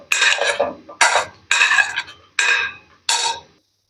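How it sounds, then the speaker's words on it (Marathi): Roasted masala and crisp fried curry leaves dropped into a mixer jar, heard as five separate clattering pours against metal, each a short rattling burst followed by a pause. "हा भाजलेला मसाला टाकायचा आहे मिक्सर जार मध्ये।"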